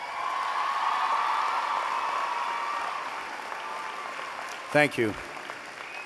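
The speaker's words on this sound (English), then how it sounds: "I'd like to give a round of applause for our students" A graduation ceremony audience at Platt College claps for students, families and friends, a sustained wash of applause that fades somewhat before a voice near the microphone speaks briefly.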